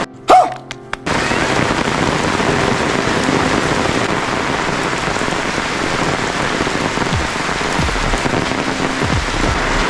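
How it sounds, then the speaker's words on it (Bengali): Heavy rain pouring down at an outdoor chariot festival where water has pooled like a pond, a dense continuous roar of drops on surfaces after a brief sharp knock at the start, loud and close. "দেখতে পাচ্ছ সেই লেভেলে বৃষ্টি হচ্ছে"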